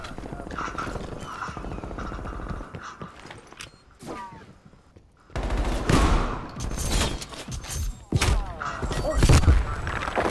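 Gunfire bursts from Call of Duty: Black Ops Cold War: loud volleys of shots and thuds. They are quieter early on, then erupt in dense, heavy barrages in the second half, with game sounds around them.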